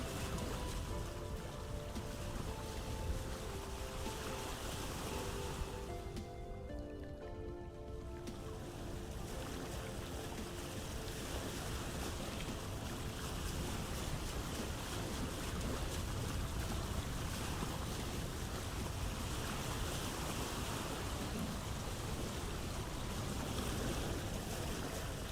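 Sailing ship moving across open water in the Vintage Story game, with a steady broad wash of waves and wind noise running continuously, loud and unbroken, with no talk over it.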